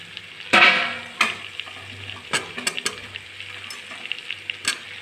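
Meat half-cooked in oil sizzles and fries in a pan, with a few sharp bursts as cut potatoes and another ingredient drop in, followed by steady crackling and occasional stirring clatter.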